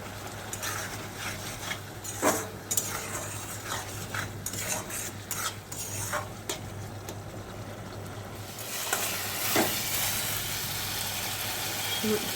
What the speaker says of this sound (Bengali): ভোগ চাল আর আলু মশলা সব একসঙ্গে ভালো করে কষানো হয়ে গেল